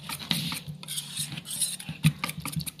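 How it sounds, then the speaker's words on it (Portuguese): A utensil stirs white chocolate ganache in a pan, giving close, soft scraping and tapping knocks in an irregular rhythm, alone and without speech. "E vamos mexer. Vai mexendo, olha."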